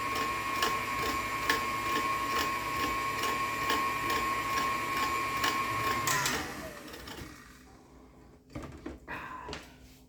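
An electric mixer beats cookie dough with two eggs, a steady mechanical whir with a ticking rhythm running for about six seconds. Then it winds down and stops, leaving quiet clatter and faint talk.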